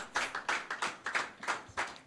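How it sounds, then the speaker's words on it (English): Hands clap in a quick, uneven series of sharp claps over about two seconds, fairly faint and thin, more like a few people than a full audience at an investors' event. "Please let's welcome him with a round of applause."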